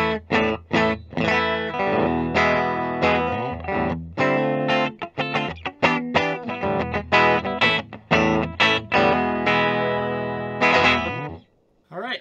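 A 2006 Gibson Les Paul Standard Goldtop electric guitar with P-90 pickups played through distortion and chorus effects, loud strummed chords and riffs with choppy stops, ringing out alone before a brief silence at the end.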